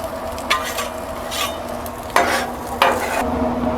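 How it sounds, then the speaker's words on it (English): Onions and peppers are pushed and stirred across a hot Blackstone griddle, sizzling steadily up close, with a few sharp scraping strokes of a spatula cutting in at intervals. "I'm going to pull them off and put them onto the cold side of the griddle, or the Blackstone"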